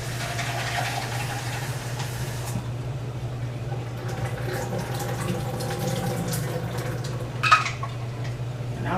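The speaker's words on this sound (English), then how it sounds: "I'm just rinsing them off before I put them in my dish." Tap water runs steadily over dried shrimp in a kitchen sink with a constant close rushing splash, light clinks, and a brief louder splash near the end, with no talking.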